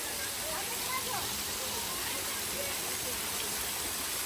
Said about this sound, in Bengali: কি সুন্দর পানির শব্দ শুনছ